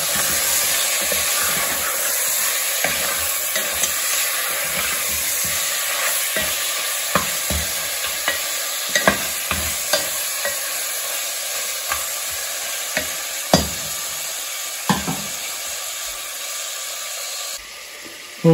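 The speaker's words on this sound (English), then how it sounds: "I'm gonna fry this mutton" Mutton pieces fry in hot oil over medium heat for a goat-meat do pyaza, a steady loud sizzle running throughout with frequent sharp clinks and scrapes of stirring, no voices.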